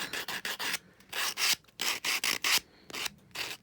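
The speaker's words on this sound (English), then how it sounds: "this filing block, as long as we're on the side that says file," Abrasive filing block rubbed in quick back-and-forth strokes over the rough edges of a small matchbox, a dry rasping scrape in short bursts with brief pauses, close and alone.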